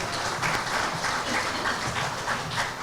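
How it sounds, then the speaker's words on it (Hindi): Applause from an indoor audience welcoming guests at an event at Gandhi Peace Foundation, a steady wash of many hands clapping at moderate distance, even and sustained throughout with no voices. "मेहमानों का जोरदार तालियों से स्वागत करेंगे"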